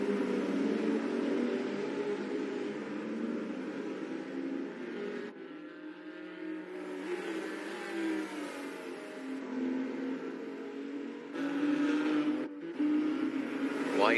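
Race cars, including a McLaren, lap in a virtual racing game, making a continuous engine drone that rises and falls with gear changes and revving throughout.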